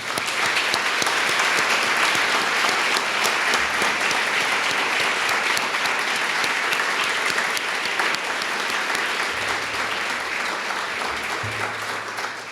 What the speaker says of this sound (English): Please join me in one more round of applause for Chuck Wall, Richard Miller, and all of our donors today